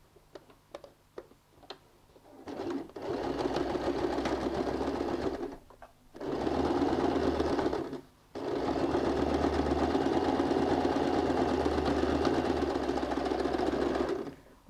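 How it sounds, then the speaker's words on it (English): A sewing machine stitches across the corner of a handbag in three sustained bursts, whirring loudly and steadily with short pauses between, after a few quiet clicks at the start. "go and sew a stitch from this corner to this corner, starting and finishing with a back stitch"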